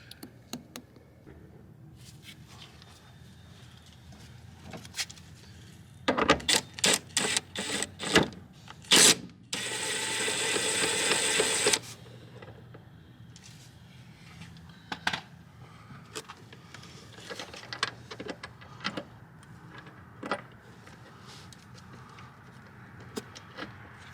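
A ratchet works on drain plugs of a 1997 Honda Civic EX coupe in a garage: bursts of quick clicking ratchet strokes, then a few seconds of steady mechanical whirring, with scattered knocks and clinks of tools and parts before and after.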